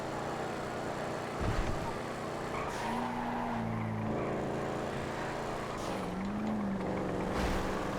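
Racing cars, including a Z-Type and Sabre Turbo, in a GTA FiveM race, with loud sustained engine drone, shifting gear pitch, and tire squeals as they fight side by side.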